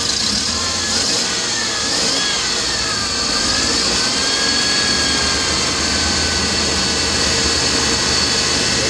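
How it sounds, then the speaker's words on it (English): A Ford E150 truck's 4.9-liter engine runs steadily and loudly at a smooth idle after a crankshaft sensor fix, its pitch wavering slightly as the revs drift, close by with no voices. "I haven't set anything on this motor and it's running way, way nicer."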